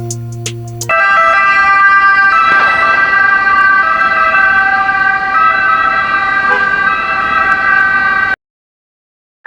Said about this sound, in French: je me suis mis à zigzaguer au doux son des sirènes